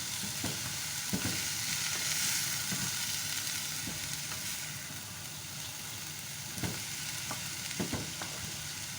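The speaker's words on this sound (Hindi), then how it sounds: "सब्जियां अच्छी तरह से गर्म हो चुकी हैं, और अब हम चिकन भी इसके साथ साथ गर्म कर रहे हैं इसमें" Shredded boiled chicken and vegetables heat in a pan as filling for chicken and vegetable samosas, giving a steady close sizzle with occasional scraping stirs and no talk.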